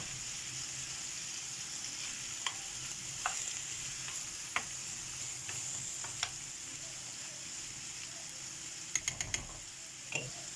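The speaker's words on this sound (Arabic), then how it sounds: "دابا غادي ندوزو الحوت، الكفته ديال الحوت" Fish kofta frying in a pan outdoors, with a soft, steady sizzle under faint occasional clicks and taps of utensils.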